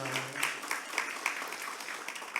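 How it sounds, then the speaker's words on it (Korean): Applause from a church congregation during a worship service, a steady patter of many hands clapping at moderate volume with a few sharper claps standing out. "박수하겠습니다"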